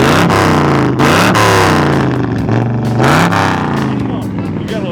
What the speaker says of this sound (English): Would you blip the throttle?